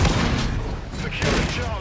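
Dense gunfire in the video game Call of Duty: Infinite Warfare, a continuous loud barrage of overlapping shots and booms heard up close.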